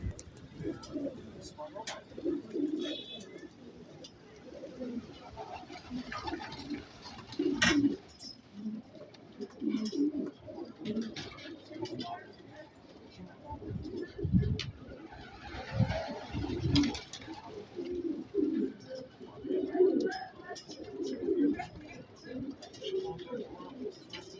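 Pigeons coo repeatedly in low, soft, throaty calls nearby on a rooftop pigeon loft, while people talk quietly over them throughout.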